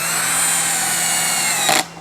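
A cordless impact driver driving a screw whines steadily at high speed close by, then spins down abruptly and stops near the end.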